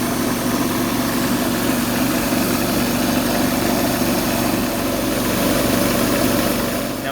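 A wood lathe spins a cross-cut pen blank during sanding, giving off a loud, steady motor hum and whir with no break and no speech.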